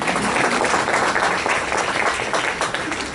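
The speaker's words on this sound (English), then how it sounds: "my kids will be thrilled that they got applause" Audience applause at a convention educators panel, a dense steady wash of clapping from a crowd that holds evenly for about three seconds.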